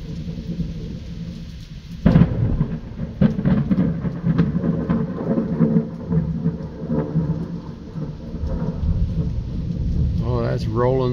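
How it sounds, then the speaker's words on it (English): Rolling thunder during a late-May thunderstorm over a wooded area, a deep rumble breaking in sharply after two seconds and grumbling on steadily in the distance, with rain noise throughout and brief voices near the end. "That's rolling thunder"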